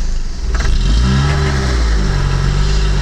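A Lada Niva pulling away, its engine revving up loud and close with a rising rough drone over a heavy low rumble, no speech.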